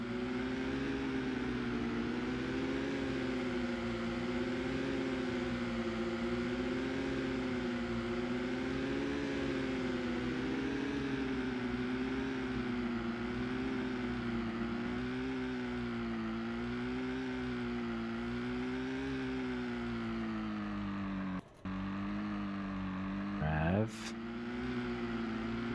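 A powerboat engine in the PS1 racing game Virtual Kyoutei 2000 drones steadily, its pitch gently wavering as it revs, with a brief click and a dropout near the end.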